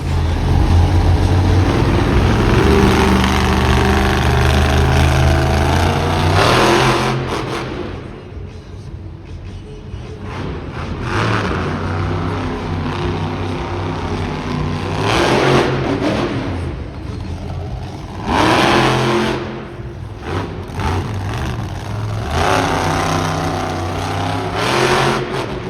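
A stunt car engine roars and revs hard at a motorsports show in a crush-car jumping competition, loud and sustained, with surging bursts of acceleration over arena crowd noise.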